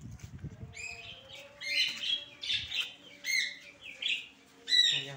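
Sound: pigeons calling in their enclosure

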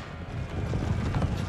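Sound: Horse Grenadier Guards cavalry hooves in Empire Total War video game

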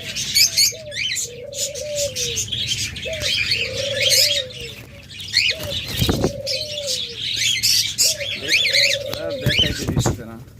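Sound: pet birds chirping, lutino budgerigars and lovebirds

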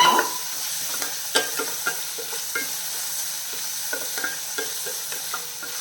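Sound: sautéing crushed small onions with okra in a pan

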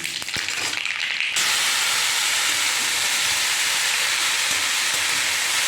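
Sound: dried chillies and mustard seeds sputtering in hot oil

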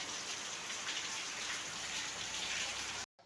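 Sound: rain falling

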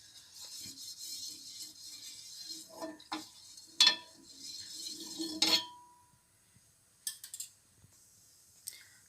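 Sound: pan and utensils clinking while frying fish in oil

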